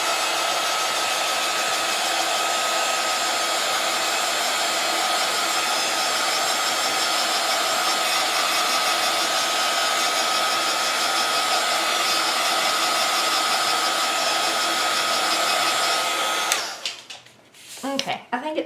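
A hair dryer runs as a steady, close, loud whir while drying a wet spot on paper, then shuts off near the end with a few faint handling sounds after.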